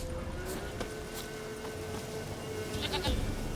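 A goat bleats in The Witcher video game, a drawn-out cry over steady ambient background noise, followed by a brief second call near the end.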